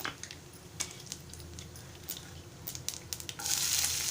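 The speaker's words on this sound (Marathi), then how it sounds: "जिरं घालूया हिंग घालूया" Cumin and asafoetida sizzle as they drop into hot oil for a Malvani bhindi dish, a soft crackling hiss with small pops that swells into a stronger sizzle near the end.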